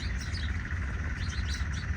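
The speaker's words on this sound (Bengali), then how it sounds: "শালিকের ঝাঁক একদম।" A flock of myna birds at a riverside char on a morning, dense overlapping chirps and calls in a continuous busy chatter, fairly close and loud.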